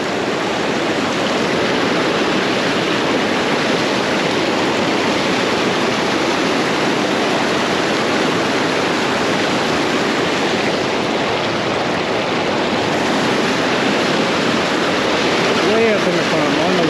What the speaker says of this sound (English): Way up in the foam, on the rocks, splashing down.